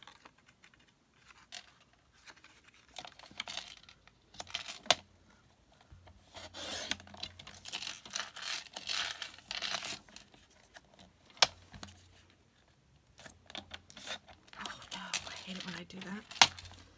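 Scissors cut paper for a Post-it note cover, a quiet run of rasping snips and rustles with small taps mixed in, close and soft.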